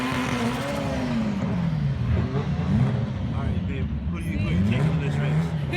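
Race cars at an outdoor car show rumble and rev with rising and falling engine tones, passing at moderate distance under continuous nearby talk.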